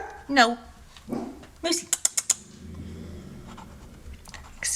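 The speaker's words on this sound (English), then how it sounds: "Excuse the dog. He must hear something." An excited house dog barks in a short burst of several quick yaps, close by and loud, with someone talking and calling to it around the barks.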